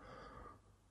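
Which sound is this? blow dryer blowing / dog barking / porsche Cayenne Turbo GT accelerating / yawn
yawn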